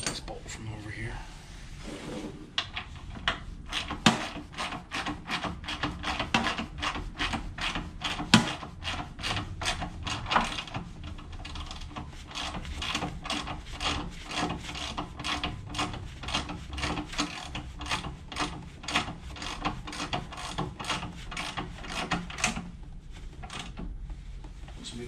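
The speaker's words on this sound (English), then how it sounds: "I should be able to tighten this bolt from over here." Up close, a wrench tightens a frame brace bolt on a Honda Ruckus scooter with a long steady train of rapid ratcheting clicks, while someone talks at times over the work.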